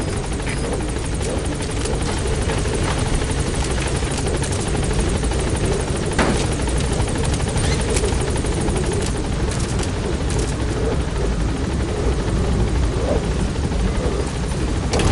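Pequod helicopter from the video game Metal Gear Solid V arriving at a landing zone, a loud steady rotor roar with engine whine filling the whole stretch, no pauses or fades.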